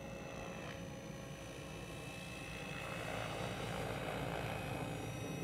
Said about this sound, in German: Der Hubschrauber macht von alleine Korrekturen.